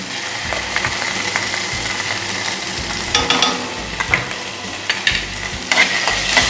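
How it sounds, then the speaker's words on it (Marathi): Ginger garlic paste sizzles and crackles in hot oil with carrot, capsicum and cabbage while being stirred for potato Manchurian, a steady close frying hiss with scraping stir sounds, no talk. "आता ह्याच्यात मी आलं लसूण पेस्ट टाकून घेते"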